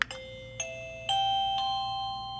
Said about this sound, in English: it is a doorbell, a wireless doorbell